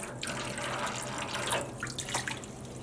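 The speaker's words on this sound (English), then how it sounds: "I'm gonna go plop this into some warm water" Water sloshes and splashes nearby in a sink or basin of warm water as an object is plopped in, a continuous watery churn with small plops, no voices.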